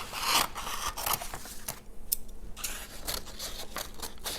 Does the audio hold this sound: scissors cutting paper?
yes